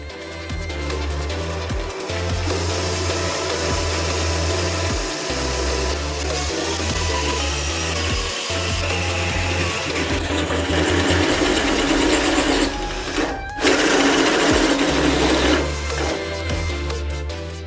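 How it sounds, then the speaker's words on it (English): A special glass drill bores into a glass jar, giving a loud continuous whirring grind with a pulsing low hum, briefly cutting out and then resuming. "For this purpose I have a special drill for glass, which I will use for the first time."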